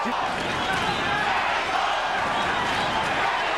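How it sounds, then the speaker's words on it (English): A large boxing crowd roars in a dense, continuous wash of voices, loud and sustained, chanting Mexico, Mexico, at the Julio César Chávez vs. Meldrick Taylor fight. "Crowd chanting Mexico, Mexico, trying to lift Chavez up."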